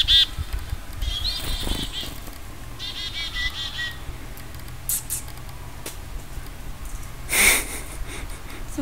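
A small bird fluttering its wings close by, several short bursts of flapping spread across the span, with faint snuffling and shuffling noises between them.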